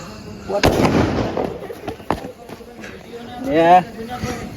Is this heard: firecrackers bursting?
yes